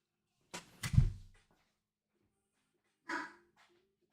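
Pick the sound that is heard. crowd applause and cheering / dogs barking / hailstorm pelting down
dogs barking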